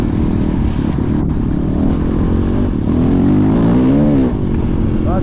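A 2006 Honda CRF450X dirt bike revs hard on an icy, rocky snow trail, its engine climbing and falling in pitch in close, loud sweeps that run continuously through the whole stretch.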